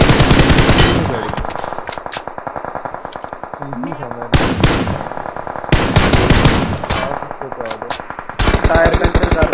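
Loud, close bursts of automatic gunfire from the video game PUBG Mobile come in repeated volleys separated by short lulls, with some faint voice activity between bursts.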